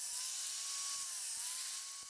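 An angle grinder removes excess weld from a homemade steel disc, a steady, loud high-pitched whine running continuously with a slight dip in pitch midway and faint clicks underneath.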